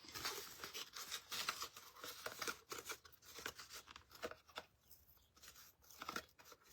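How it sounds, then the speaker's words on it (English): Scissors snipping corrugated scrapbook paper daisies for a ladybug door hanger, quiet close crisp cuts in an uneven rhythm with rustling paper between snips. "So I'm just cutting them, and I'm going to kind of come back here and trim that off a little bit better."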